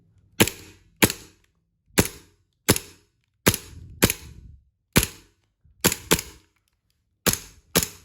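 A BB gun pistol is test fired, giving about a dozen sharp, loud cracking shots, mostly in quick pairs spaced out across several seconds, each followed by a short mechanical clack in an otherwise quiet room.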